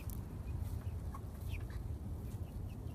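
Soft clucks and small chirps from a ten-week-old chicken outdoors, over a steady low rumble of background noise, close by and fairly quiet.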